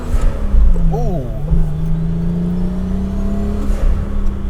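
A Toyota Supra engine revs up and settles into a steady, loud drone close by, with a quick rising and falling rev early on while a person talks over it.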